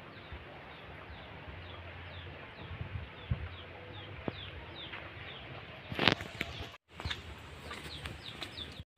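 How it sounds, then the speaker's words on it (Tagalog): Hens clucking and chattering softly in the background, with a few sharper calls; an outdoor, fairly quiet rural hillside farm setting. "Daghan sila manok"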